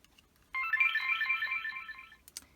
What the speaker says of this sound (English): mode yellow is Moon Gorgeous Meditation without voice